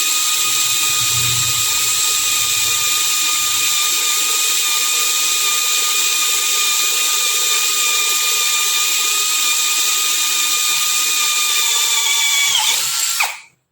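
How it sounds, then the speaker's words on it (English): A Nanwei cordless drill spins at high speed as it bores a hole, giving a loud, steady high-pitched whine that holds for about thirteen seconds before cutting off abruptly. "I'll drill here side by side and let's see how fast, high speed."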